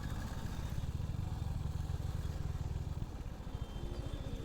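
A Royal Enfield Hunter 350 motorcycle being ridden, its engine giving a steady, close low thrum that runs without a break from start to finish.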